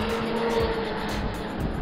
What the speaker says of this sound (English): The snowmobiles go by